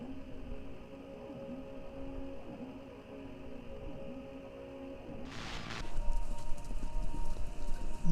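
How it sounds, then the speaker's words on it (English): Horses galloping in a race, broadcast over a radio station in the video game Kentucky Route Zero: a steady low clip-clop patter of hooves under faint static, swelling louder after a brief burst of noise near the end. "Sounds like... horses? Horses running? A race?"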